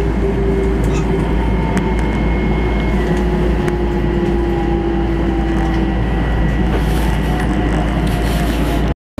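A Long Island Rail Road train rides the Main Line, running on the westbound track while heading east. The loud, steady rumble of wheels and car noise continues throughout, with a sustained whine that rises and falls.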